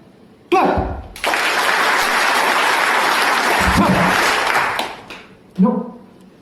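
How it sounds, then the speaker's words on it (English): Students in a first-year engineering class clap together in a burst lasting several seconds, with brief voices before and after. "You all should clap."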